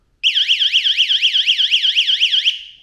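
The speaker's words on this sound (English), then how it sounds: "if I press the app now, start alarm" A YoLink smart smoke and carbon monoxide detector sounds its siren alarm after being triggered from a phone app: a loud, continuous warbling electronic tone sweeping up and down rapidly for about two seconds, then cutting off abruptly, with no talking.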